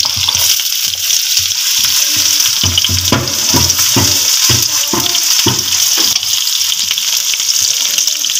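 Steady loud sizzling of three sliced onions frying in a pan for keema matar aloo, with intermittent scraping and stirring strokes throughout.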